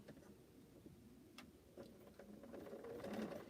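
A sewing machine stitches an accurate quarter-inch seam on fan blocks for a quilt, its quiet, steady mechanical whir running throughout and growing slightly louder toward the end.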